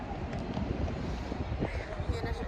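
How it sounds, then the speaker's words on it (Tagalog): Steady, heavy, cold wind in Taiwan rumbling and buffeting against the microphone, a continuous low roar with no clear breaks. "Kasi ang lakas ng hangin."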